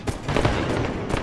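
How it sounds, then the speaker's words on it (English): A grenade blast from an online shooter match, a loud, dense burst of noise filling the short moment with crackling rumble, heard alone without voices. "Throwing a grenade."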